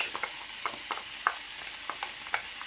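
A spoon stirs tomatoes and basil into a simmering Provençal squid stew, making soft scraping clicks about once every half second over a quiet, faint sizzle.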